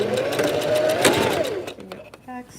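A sewing machine back-stitches along a folded dress hem in a brief whirring burst, with a voice speaking alongside and a short tonal beep at the end.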